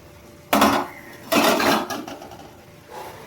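Lid lifted off a pot of hilsa fish head and vegetable curry: two loud clattering metallic knocks close by, then a fainter clink.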